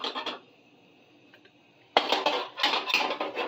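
A pot clanks and scrapes on an electric stove burner while spaghetti sauce with onions is being cooked, two clusters of metallic clatter separated by a quieter stretch with a faint tone.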